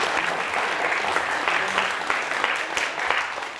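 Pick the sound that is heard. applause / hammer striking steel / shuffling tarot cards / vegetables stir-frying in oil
applause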